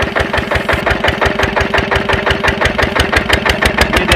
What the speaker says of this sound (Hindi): ये अब देख सकते हैं स्पीड पकड़ गया इंजन